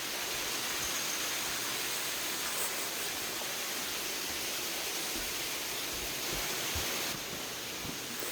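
Jureom waterfall roars in a rocky canyon on Samaksan mountain in Gangwon-do, a constant broadband rush of falling water with no voices.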